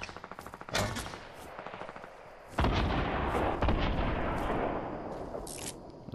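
Rapid explosive blasts and gunfire from a Fortnite battle royale match, with repeated sharp impacts and a heavier rocket-like burst midway, loud and continuous throughout.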